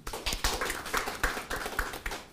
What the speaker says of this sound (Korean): 다시 한번 모두 큰 박수로 환영해 주십시오